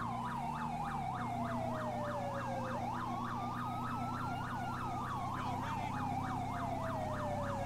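A loud wailing police siren in the video game LSPDFR cycles rapidly up and down without pause, layered over a second slower-sweeping siren tone and a low engine drone.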